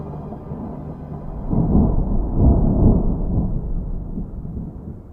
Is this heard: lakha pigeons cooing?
no